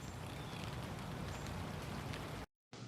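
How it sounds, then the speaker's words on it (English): Light rain falls steadily on a base camp at a steel building site, a soft, even patter that holds at constant loudness and then drops out briefly near the end. "Sitting in our base camp with a light rain falling"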